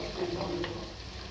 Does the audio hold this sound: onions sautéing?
yes